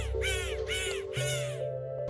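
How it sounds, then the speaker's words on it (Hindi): A crow in an animated children's story caws three harsh, rasping times in quick succession, loud and close, ending in a held tone. "इतना कहकर कौवे ने काव काव करके गाना शुरू किया।"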